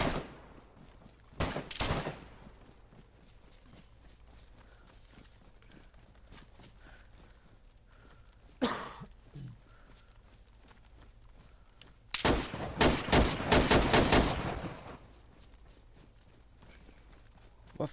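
Video game gunfire sounds as short bursts of rapid shots, one early, a brief pop later and a longer heavy volley near the end, over quiet background and sparse talk.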